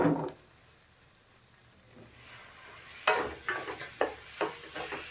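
Capsicum and tomato sauté in a pan, with a brief clatter followed by quiet sizzling, then a run of close stirring scrapes and soft squishy hits near the end.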